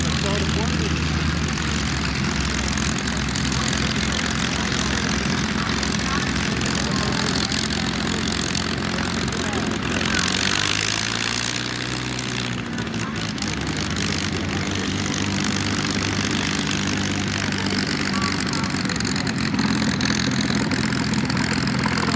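At the Stardust Air Show 1990 at Cherry Capital Airport, Traverse City, a propeller plane's engine hums and idles continuously and fairly close, its pitch dipping briefly midway, while people chat underneath.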